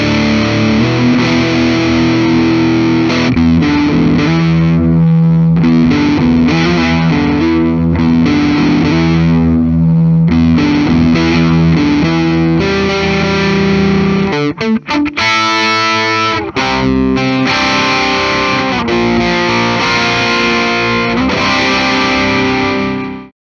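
A 2001 Gibson USA Tony Iommi Signature SG electric guitar plays loud, distorted, mid-focused riffs and sustained chords, with a brief break midway, continuing steadily throughout without talk.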